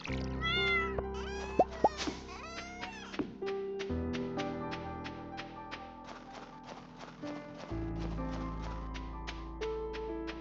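A cat in a farming video game gives a few quick meows near the start, followed by a run of rapid tapping clicks over steady game music.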